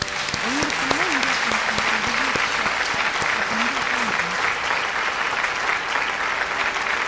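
A large audience at a Bharatanatyam dance recital applauds loudly and continuously, with a voice speaking briefly over the clapping near the start.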